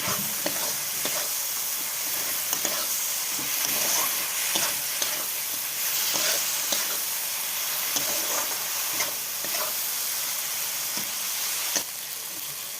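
Spice paste sizzles and hisses loudly in a pan with fried flat beans as it is stirred and cooked down, with a continuous frying crackle broken by frequent scraping and clatter from stirring.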